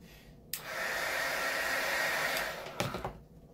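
A heat gun blows a steady, breathy roar for about two seconds while warming carbon fiber vinyl wrap on a steering wheel, bracketed by quieter moments and a couple of handling clicks.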